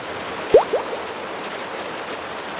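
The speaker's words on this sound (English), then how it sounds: "Soft rain begins to fall." Gentle rain patters on surfaces as a constant soft wash. Two short, faint chirp-like squeaks sound near the start.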